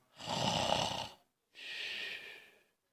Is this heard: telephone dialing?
no